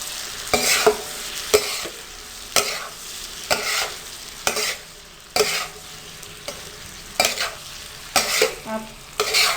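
Tawa pulao mixture frying in oil on a tawa, stirred with repeated rhythmic scraping strokes over a continuous close sizzle.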